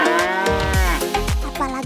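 Cattle in a wide hillside pasture where thousands graze free, lowing loudly and close by, several long overlapping moos following one another with no talk.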